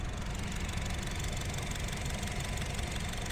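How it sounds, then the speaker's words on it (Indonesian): Close-miked engine of a 2018 Honda Brio Satya automatic car idling, a steady, even hum with a fine, rapid, regular ticking running throughout. "Ini mic-nya saya coba dekatin ke bagian mesin."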